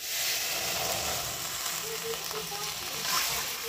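Low, steady sizzle of spices and onions tempering in hot oil for dal in a home kitchen, a soft continuous frying hiss with faint bubbling and small clinks, fairly quiet and unbroken by talk.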